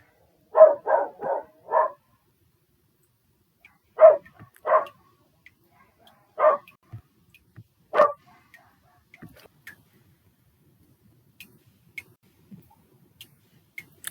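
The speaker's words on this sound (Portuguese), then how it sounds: "todos os cachorros aqui da vizinhança resolveram se juntar para sabotar essa aula" Neighbourhood dogs bark nearby: a quick burst of four barks, then single barks spaced a second or two apart, fading to faint, scattered ticks and distant noises.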